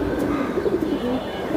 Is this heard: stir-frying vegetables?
no